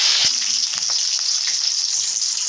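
Cumin seeds and tomatoes dropped into hot oil in a pan, a loud continuous bright sizzle with a few soft clatters at the start, close up and without speech.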